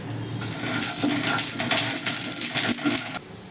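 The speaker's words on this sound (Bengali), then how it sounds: "তেলটা গরম হয়ে গেছে এবার দুটো তেজপাতা আর একটা শুকনো লঙ্কা দিয়ে দিলাম এবার একটু নেড়ে ছেড়ে আমি এক চামচ কালো জিরে ফোড়ন দিয়ে দেবো" Bay leaves, a dried chili and nigella seeds tempering in hot oil, sputtering crackles and sizzling bursts with light clinks of a utensil against the pan, close and irregular.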